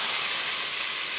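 Potato, onion and green chilli mixture frying in hot oil left from frying fish, giving a steady, loud sizzling hiss that runs without a break and has no voices over it.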